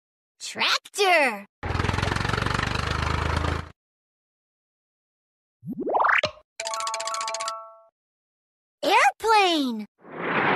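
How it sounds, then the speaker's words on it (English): A toy tractor engine sound from a children's first-words toy, a short buzzy, chugging rumble lasting about two seconds, set between brief electronic chimes, boings and other cartoon effects separated by silence. "Tractor."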